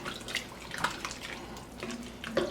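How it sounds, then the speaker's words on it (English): Water runs from a tap or pitcher into a pot of ribollita with beans, a steady splashing pour lasting the whole stretch, close and fairly loud, with no one talking. "I'm going to add 2 cups of water to start with, just to see where we're at with that."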